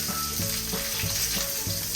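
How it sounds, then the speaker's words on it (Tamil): Fish frying in oil on a dosa griddle over medium heat, a steady close sizzle with light crackle that runs without a break and with no talking. "ஸோ வந்து 2 பக்கம் திருப்பி நான் பொரித்து கொள்கிறேன்."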